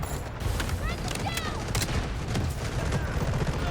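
Loud, sustained gunfire rattles through a firefight in the shooter game Delta Force, with shots overlapping into a dense barrage and a voice briefly heard in the mix.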